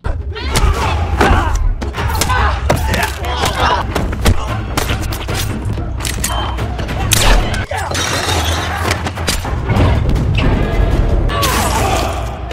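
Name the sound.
fight sounds of a brawl in a film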